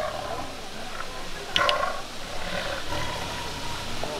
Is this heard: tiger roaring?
yes